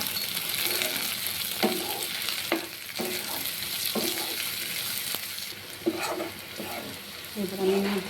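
Onion with garlic and chopped green chillies fries in a pan for an egg curry, giving a continuous sizzle broken by repeated scraping stirs of a spatula at fairly regular intervals, close and moderately loud with no talk.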